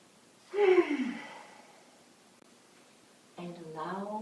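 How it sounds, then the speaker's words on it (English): One deep, audible breath, partly voiced like a sigh, rises and then fades. After a quiet pause a second breathy exhale follows, close to the microphone in a calm, quiet room. "Take a deep breath."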